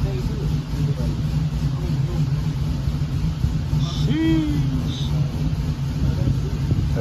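A 1978 Chevy Landau engine runs with a low, continuous rumble while people talk nearby.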